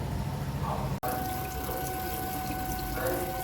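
Water running and splashing steadily, fitting a face being rinsed after a tea tree face wash, with a brief cutout near the start and a faint voice underneath.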